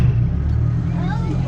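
Museum train at a transportation museum starting to move, a steady low rumble much like a car engine, with voices talking over it throughout.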